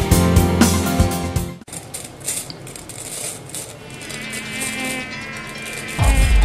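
Whitefly and mite pests pictured as a buzzing swarm of flying insects, a steady insect drone running through the middle of a short agricultural pesticide advert, with music and other sounds before and after it.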